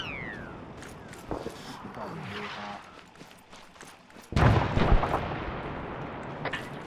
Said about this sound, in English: that sounds a lot like mortars